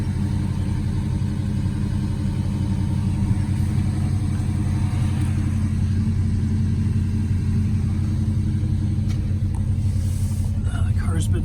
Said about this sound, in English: This is 289 Studebaker engine